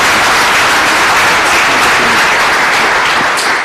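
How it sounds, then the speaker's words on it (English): Sustained applause from a conference audience thanking an energy-efficiency panel, a dense, steady wash of many hands clapping together, loud and continuous throughout. "I would like you to join me in thanking the panel with the applause."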